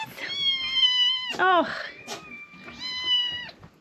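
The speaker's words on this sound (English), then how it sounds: "Good morning, kitties." Farm cats meow close by on a drizzly November morning, a few long, tonal, rising and falling cries with a brief voice briefly speaking between them.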